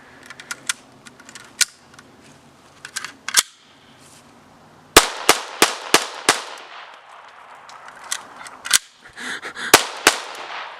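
Sharp, loud gunshot cracks from a PPS-43C submachine gun, fired as a few scattered single shots and then a faster run of bursts, with ragged, uneven timing.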